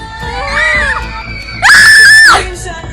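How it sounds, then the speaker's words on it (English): Shrill screams ring out in a spooky horror tale set near a graveyard, first a wavering cry, then a louder sustained shriek that cuts off sharply, close and piercing. "Screams echoed loud"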